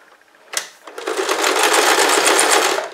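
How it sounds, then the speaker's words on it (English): Sewing machine stitching binding onto the edge of a quilt: a soft click, then a fast, steady mechanical whir of stitching that runs loud and close to the end. "And you're going to sew it as close to the edge as you can."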